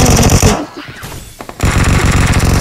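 Automatic gunfire from the video game PUBG rattles in loud, dense bursts, with a brief lull of scattered shots before another sustained volley.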